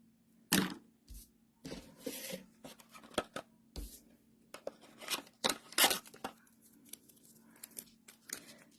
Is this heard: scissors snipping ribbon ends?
yes